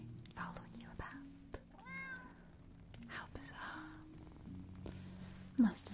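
An orange tabby cat meows and purrs close by in a quiet cabin setting, with soft whispered speech around it and a short sharp meow near the end.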